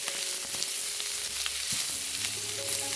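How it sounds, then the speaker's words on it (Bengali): Chopped coriander leaves being mixed into a dish sizzling in a frying pan, with soft frying crackle and a few scraping stirs of the spatula, close and without talk. "এখন এটার মধ্যে দিয়ে দিচ্ছি ধনিয়া পাতা কুচি, দিয়ে আবারও সব কিছু খুব ভালো করে মিশিয়ে নিচ্ছি"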